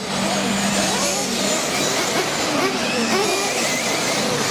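Electric RC off-road buggies race down the front straightaway in an A-Main event, a continuous high-pitched whine of small motors and tires droning steadily, with a broad noisy background of the track throughout.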